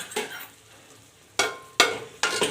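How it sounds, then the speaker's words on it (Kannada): Masala fries in oil in a pan for a lady's finger sambar. A low sizzle runs underneath, broken by four sharp, close scraping strokes of a spoon, three of them bunched near the end. "ಮಸಾಲೆನ ಚೆನ್ನಾಗಿ ಹಸಿ ವಾಸನೆ ಹೋಗೋವರೆಗೂ ಎಣ್ಣೆಯಲ್ಲಿ ಫ್ರೈ ಮಾಡ್ಕೋಬೇಕು."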